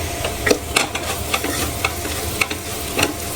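Spoonfuls of fennel powder and garam masala being stirred into beef curry frying in a pan, with a steady sizzle broken by repeated scraping strokes of the spoon, close and moderately loud, no voices.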